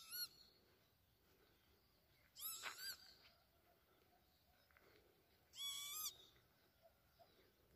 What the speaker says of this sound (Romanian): Dar ce e pasărea asta?